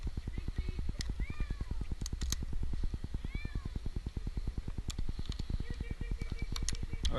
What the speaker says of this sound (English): Okay, Jinx, I'm about to come up, bud.